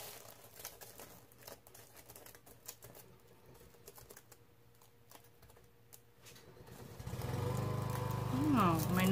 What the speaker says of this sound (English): Oh, my neighbor's mowing.